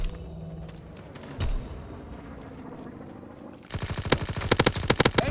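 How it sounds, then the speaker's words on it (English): Video-game anti-aircraft fire: a quiet battlefield bed with one dull thump, then sudden rapid, loud bursts of automatic shots in quick repeating volleys. "Anti-aircraft bursts commence."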